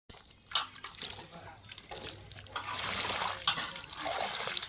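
Water trickles and splashes onto a potted rose plant at home, a quiet steady pour with small drips and splatters, close by and fairly soft throughout.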